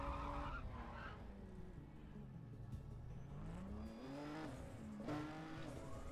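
Nissan Nismo R34 GT-R Z-Tune engine in the racing game NFS World, revving steadily and loud with pitch sliding down and climbing back up through gear changes, with no talking over it.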